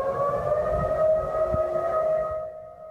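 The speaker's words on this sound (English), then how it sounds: "tsunami warning sirens blared in Kodiak, Alaska" A tsunami warning siren in Kodiak, Alaska, after a magnitude 7.9 earthquake, sounds a long, steady wail from a distance, holding its pitch before slowly fading away.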